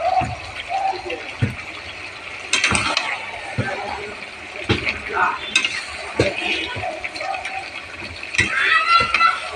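Ground turmeric, chilli, coriander and cumin fry for chicken kosha. A soft sizzle runs underneath repeated sharp scrapes and knocks of a spoon against the pan, and a voice speaks at times.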